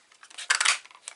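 Scissors cutting paper for a scrapbook album, one short close snipping pass with a quick crisp run of blade crunches, no voices.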